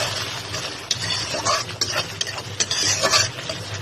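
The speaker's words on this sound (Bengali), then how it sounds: "চিংড়ি মাছটা দিয়ে ভালোভাবে নাড়তে হবে।" Shrimp and Malabar spinach stirred in a pan: repeated scraping and clinking spatula strokes in an uneven rhythm over a soft, steady sizzle, close and fairly loud.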